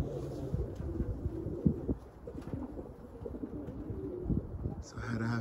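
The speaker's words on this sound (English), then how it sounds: "Man, look at them birds go, man. They are moving." Flock of pigeons flying nearby, with soft cooing and fluttering wingbeats over a rumbling outdoor background, ending in a brief brighter noise.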